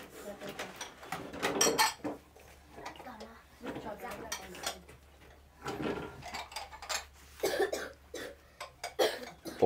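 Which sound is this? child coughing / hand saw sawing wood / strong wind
child coughing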